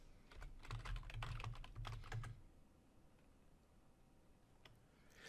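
A command is typed on a computer keyboard in a quick burst of close, crisp key clicks lasting about two seconds, then quiet with a couple of isolated taps.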